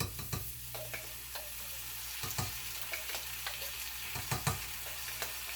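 Two teaspoons of minced garlic sizzling in a pan, a soft continuous fry broken by frequent clicks and scrapes of stirring, close but fairly quiet.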